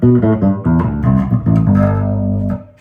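Several low, round bass guitar notes played through a Music Man 100B bass amplifier with its equalizer bypassed and flat, each sustained briefly before the next, with a clean, unprocessed tone.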